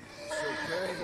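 A horse in the Red Dead Redemption 2 video game gives a single rising whinny lasting about a second, close and clear.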